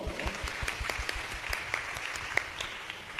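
A church congregation claps together in a rhythmic, even beat, many hands striking in unison at a steady pace, moderately loud in a reverberant room, with no talk over it.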